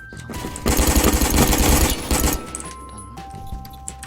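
The A2 rifle in Phantom Forces fires a rapid, loud automatic burst lasting just under two seconds, then falls to lighter mechanical clicks and handling sounds.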